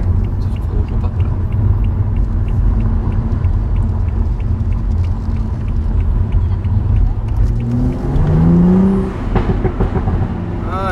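A BMW M135i runs with a deep, steady engine rumble close by, then gives a short rev that rises in pitch near the end.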